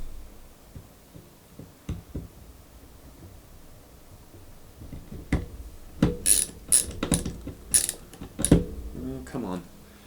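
A ratchet tightens the mount on a fightstick. Scattered clicks and taps come first, then bursts of rapid, close ratcheting with short pauses between them.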